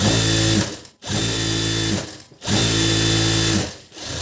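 A sewing machine stitches a blouse in three loud, close runs of steady whirring, each a little over a second long, separated by brief stops.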